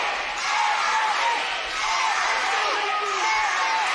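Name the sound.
wrestling crowd erupting and cheering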